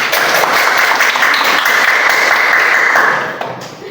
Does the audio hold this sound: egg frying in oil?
no